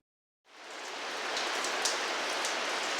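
Heavy rain starts abruptly outside a police station and continues as a steady, dense hiss with scattered brighter droplet hits, with no voices.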